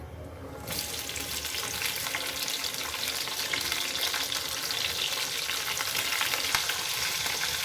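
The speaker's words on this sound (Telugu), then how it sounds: "ఇప్పుడైతే మనం ఒకేసారి ఆనియన్ పచ్చిమిర్చి అండ్ కరివేపాకు అయితే వేసేసుకుందాము." Onion, green chilli and curry leaves drop into hot oil, bursting into a loud, dense, continuous sizzle that stays steady and close throughout with no talking.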